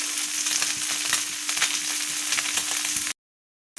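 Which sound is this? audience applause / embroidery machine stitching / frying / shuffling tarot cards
frying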